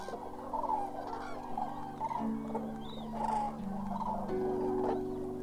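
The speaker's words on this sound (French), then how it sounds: "La journée, les grues cendrées sont au gagnage dans les champs." Common cranes feeding in a recently harvested maize field give faint honking and trumpeting calls, with overlapping voices from a flock at some distance.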